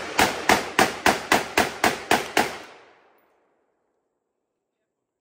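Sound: Draco pistol gunshots

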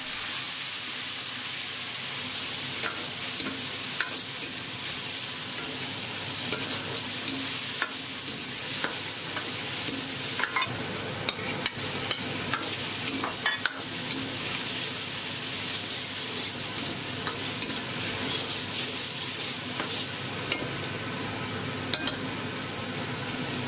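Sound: stir-frying pork intestines with pickled ginger, chili and bean paste

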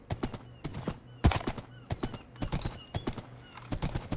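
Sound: horse hooves clip-clopping in Minecraft video game

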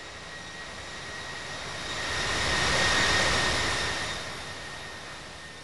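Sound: Boeing 777-200F cargo jet taxiing, Infinite Flight simulator game

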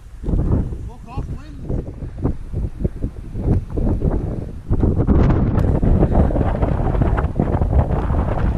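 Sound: wind blowing hard into the microphone outdoors

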